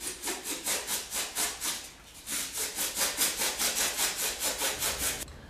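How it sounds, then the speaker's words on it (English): A hacksaw blade saws through foam in quick, even back-and-forth strokes, a rhythmic rasping that pauses briefly near the middle before resuming and then stopping. "But like a smaller saw, like a hacksaw blade, and we cut those out."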